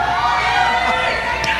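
A large arena crowd at an esports world championship knockout match, cheering and shouting in a dense, loud, continuous roar.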